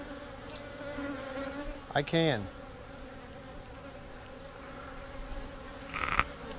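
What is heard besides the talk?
honey bees buzzing during hive frame inspection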